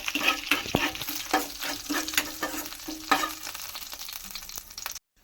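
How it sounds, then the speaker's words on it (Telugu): Dried red chillies and coarsely crushed garlic fry in a pan, a crackling sizzle punctuated by sharp stirring scrapes, close and lively before cutting off abruptly. "ఎండుమిరపకాయలు, అండ్ కచ్చపచ్చగా దంచుకున్న వెల్లుల్లిపాయలు. దీన్ని బాగా వేయించేసుకోవాలి."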